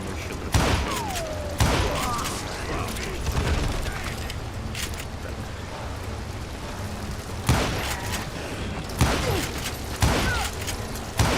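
Gunfire in a cowboy-themed shooter game, several loud sharp shots arriving from behind at irregular intervals over a steady background din, with someone talking in between.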